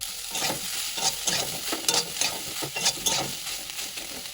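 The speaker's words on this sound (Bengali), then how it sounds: "এবার সয়াবিনটা দিয়ে ভেজে নেব" Soybean chunks fry in hot oil in a wok, giving a steady close sizzle broken by repeated scraping stirs at an even rhythm, with no talking.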